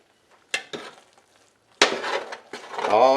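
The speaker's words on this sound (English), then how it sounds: "Turn the oven off, pull this out, put it on the stove, take a look at it, stir it up." Smothered okra is stirred in a pot just pulled from the oven onto the stove, with a few scattered scrapes and clatters of a utensil against the pot, then a sizzling, bubbling swirl building toward the end.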